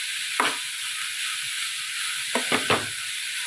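Spiced cauliflower and garam masala filling for gobi paratha sizzles steadily in a pan, with a few louder scraping stirs breaking through the constant hiss, alone with no talk.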